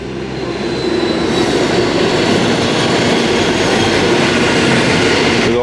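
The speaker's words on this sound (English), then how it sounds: "We'll just let this freight train go past." Freight train rolling past close by beside a graffiti-covered spot, a loud steady rumble with rattling wagons and a faint squeal of wheels, building quickly and holding throughout.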